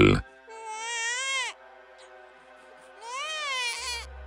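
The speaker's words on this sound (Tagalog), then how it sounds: "may narinig akong iyak ng sanggol" An infant wails in two long, wavering cries separated by a short pause, loud and close, with no talk.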